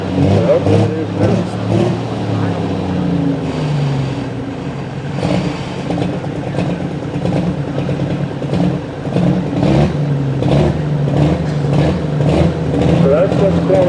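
A pulling tractor with clutch trouble runs loudly at a nighttime truck and tractor pull, its engine a dense steady roar with a rough grinding texture and fluctuating revs, while a voice talks over it.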